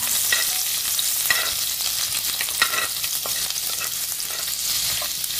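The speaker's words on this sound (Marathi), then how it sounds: "आता यामध्ये मी टाकते चिरलेला लसूण आणि आलं। हे थोडंसं फ्राय करून घेते।" Chopped garlic and ginger fry in about a tablespoon of oil with a loud, continuous hiss and crackle, and light spatula scrapes and clicks come through now and then.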